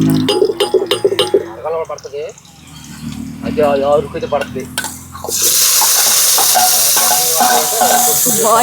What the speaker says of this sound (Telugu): ఎర్రగడ్డలు బాగా కాల్చినాయి.